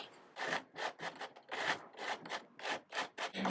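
A file rasps along the fret edges of an ebony guitar fingerboard on a Les Paul Custom, about ten overlapping back-and-forth strokes in an even rhythm, close and clear with no talk.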